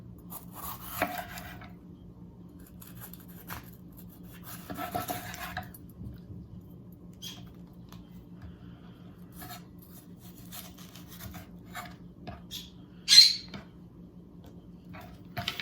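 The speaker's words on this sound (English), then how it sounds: "So I'm just gonna slice up my red pepper." A knife cuts through a red pepper on a board, producing a few faint rasping slices spread across the clip and one sharper scrape near the end. A steady low hum runs underneath, and there is no talking.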